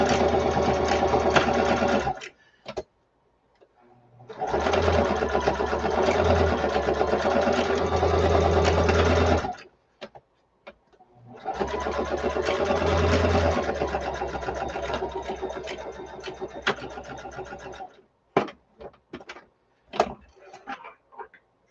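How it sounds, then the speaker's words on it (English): Sewing machine running a straight stitch to attach pen holders onto a fabric drawstring bag, two long bursts of rapid whirring with pauses between, then short intermittent stops and starts, close up. "So here I am going to stitch in a couple of like pen holders. I'm just going to use a straight stitch."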